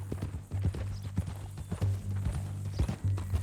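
Horse hooves clip-clopping at a walk in Red Dead Redemption 2, a steady series of close, moderately loud hoof strikes over a low humming game background with no talk.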